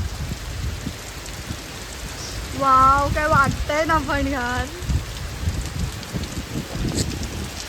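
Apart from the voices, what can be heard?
rain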